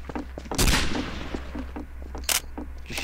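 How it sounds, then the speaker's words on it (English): Gunshots blast at a window in a World War II video game, two loud sharp reports about two seconds apart with faint clicks and soft movement between them, over a steady low rumble. "Just shooting the window."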